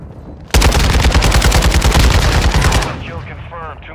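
Rapid automatic gunfire in a shooter video game, a loud sustained burst of evenly spaced shots lasting over two seconds before cutting off, followed by fainter trailing effects.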